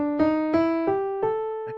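A guitar plays a blues scale: five separate plucked notes, each with a sharp attack and a ringing decay, stepping one after another at an even pace with no talk.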